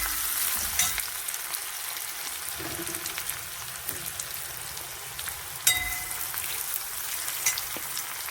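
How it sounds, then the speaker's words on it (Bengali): Onions frying in a pan give off a quieter steady sizzle, dotted with occasional sharp clicks and scrapes of stirring, no voices. "পেঁয়াজটা ভাজা হয়ে গেছে"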